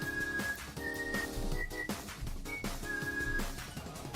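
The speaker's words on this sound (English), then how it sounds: "There's the ring fit sound." A Ring Fit Adventure sound effect, a bright whistle-like melodic jingle repeating in short phrases over a busy musical backing, with no talking.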